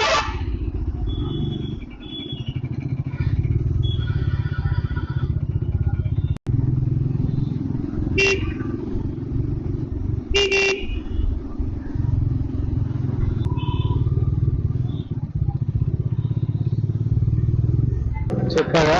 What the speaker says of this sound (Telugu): ట్రాఫిక్ అయితే ఎక్కువ ఉంది ఇక్కడ